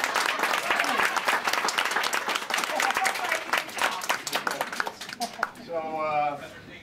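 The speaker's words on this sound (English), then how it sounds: "Let's get a little applause for Ann" A small audience applauds Ann at a Christmas gathering with dense, lively clapping throughout, tapering off as a voice starts speaking over the last moments.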